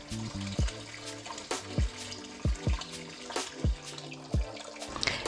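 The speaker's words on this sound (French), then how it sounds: "Je vais donc arrêter mon robinet." Water running from a tap into an Innova semi-automatic washing machine tub, steady splashing with rhythmic knocking drips, close, then cut off near the end.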